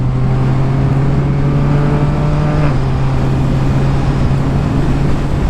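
A Yamaha MT-09 motorcycle engine pulls in fourth gear at speed, giving a loud, steady drone with constant wind rush throughout, heard from on the bike.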